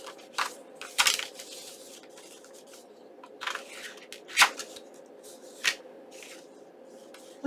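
Paper folded and creased by hand while making a junk journal pocket, giving scattered crinkles and sharp crisp snaps over a faint steady hum.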